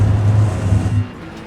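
Acura GT3 race car in iRacing at Road America pulling hard in fourth gear, a steady loud engine drone for about a second before the power note drops away into quieter rumble.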